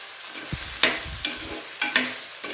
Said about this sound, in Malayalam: ഇനി ഇവന്മാരെ നല്ല രീതിയിലൊന്ന് ഇളക്കുക